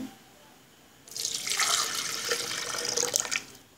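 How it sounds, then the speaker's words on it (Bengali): A glass of cold water pours into a blender jug while making Bangladeshi matha, a splashing gush that starts abruptly after a quiet second and runs for about two and a half seconds before stopping. "এখন দিচ্ছি এক গ্লাস পরিমাণ ঠান্ডা পানি"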